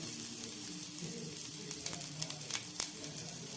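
Fennel seeds, ginger and whole spices fry in oil for Bengali chutney, a constant soft sizzle with a few small crackles and pops over it.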